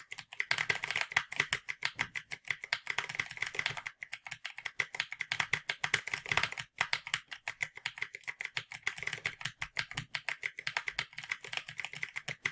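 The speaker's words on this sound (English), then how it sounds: "I also got a new keyboard and" Fast, steady typing on a new computer keyboard, with dense clicky keystrokes running continuously and close to the microphone, pausing only briefly, and no voices present.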